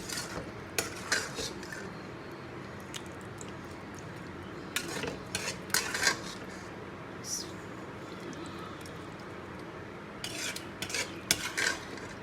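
Spoon scraping and clinking against a pot while turnip curry is dished out, with scattered metallic taps and rubs over a low kitchen background and faint talk at moments.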